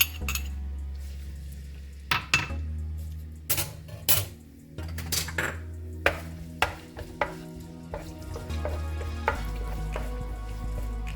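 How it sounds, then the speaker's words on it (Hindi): Small pieces of garlic fry in oil for restaurant-style chicken chow mein, making a steady sizzle. Sharp clanks of a utensil on the pan break in at intervals, with no talking. "इस लहसुन को हम डाल देंगे। छोटे छोटे हैं ये लहसुन, इसको हमने डाला है इसमें ऑयल में डाल लेंगे पूरा"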